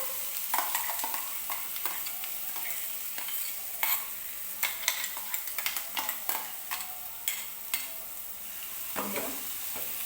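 Thick dosa batter of urad dal and rice being stirred in a pan on a low gas flame, with a steady soft sizzle and repeated scraping strokes throughout, close and unaccompanied by talk.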